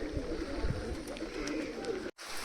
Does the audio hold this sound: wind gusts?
no